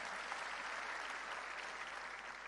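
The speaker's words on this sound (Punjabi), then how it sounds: "ਇੱਕ ਵਾਰ ਜ਼ੋਰਦਾਰ ਤਾੜੀਆਂ ਮਾਰੋ" Crowd applause at a political meeting with district council and block committee members, a steady, fairly faint wash of clapping from many hands.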